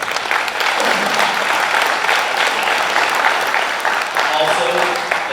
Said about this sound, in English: So let's give those guys a big round of applause.